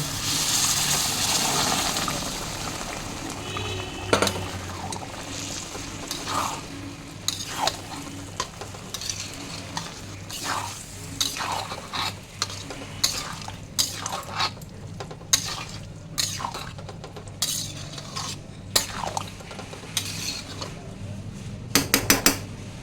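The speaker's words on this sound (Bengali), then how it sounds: "এবার আমি রাজমা আর সয়াবিনটা দিয়ে দেবো" Rajma and soybeans with water go into a cooking pan of fried-down spice masala, bringing clanking pan and utensil knocks, a wet stirring scrape and a soft sizzle at close range, with no talk.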